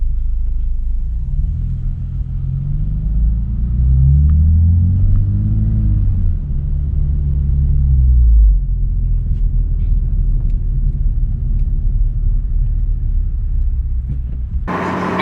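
A Lexus IS350 fitted with a Joez catback exhaust is heard from inside while driving: a deep, steady exhaust rumble that swells as it pulls harder midway, then settles back to a loud cruising drone.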